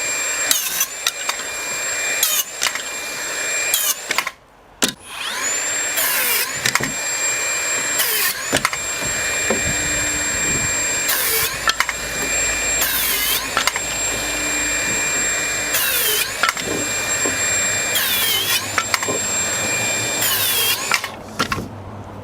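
A HiKOKI 12V dual bevel circular saw whines at high pitch while cutting, its steady motor hum interrupted by repeated cutting bursts and brief pauses, loud and close.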